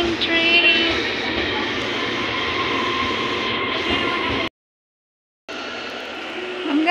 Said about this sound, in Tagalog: Aalis na naman yung train.